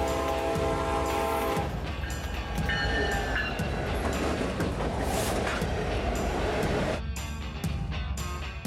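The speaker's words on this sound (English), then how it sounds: "This train is running hot and it's running smooth" A train rumbles steadily along the rails, loud and close, with a dense roar and a brief shift in tone near the end.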